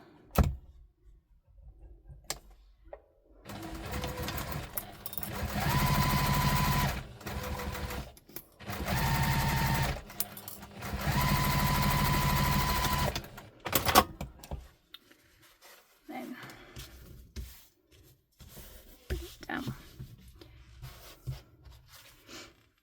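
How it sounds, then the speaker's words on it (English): A sewing machine stitches across a tote bag seam in three or four short runs with brief stops, fairly close, followed by quieter fabric handling and clicks. "now we are going to take those to the machine and we're going to stitch across them with the seam allowance stated in the pattern"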